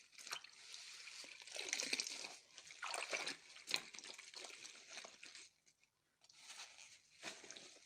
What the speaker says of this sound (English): now I'm washing it in a sink of soapy water